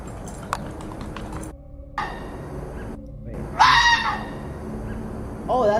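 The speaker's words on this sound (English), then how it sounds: "This is a fox scream." A recorded fox scream plays back as a harsh, rising shriek late in the span, following some clopping and honk-like noises, fairly loud and with no talk.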